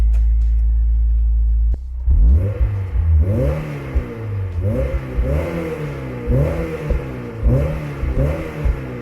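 A Honda S2000 fires up with a low idle burble, then its VTEC engine revs repeatedly, each rise climbing sharply and dropping back in a loud, close series of about half a dozen blips.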